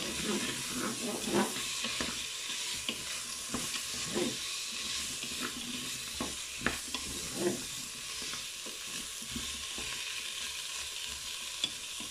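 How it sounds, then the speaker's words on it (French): Carrots, bacon lardons and onions sauté in a Cookeo multicooker with a soft steady sizzle, broken by scraping stirs and light knocks of a utensil in the pot, close up with no talk. "Les lardons et les oignons commencent à bien dorer là. Donc je vais ajouter mes carottes. Pour les faire revenir un petit peu aussi."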